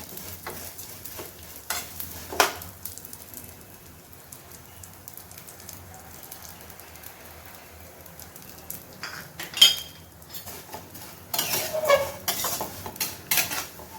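Vermicelli fried in about a spoonful of ghee for a milk kheer dessert, with quiet stirring and a soft sizzle. A few sharper scrapes and clinks of a utensil against the pan break in, and a busier stretch of stirring comes near the end.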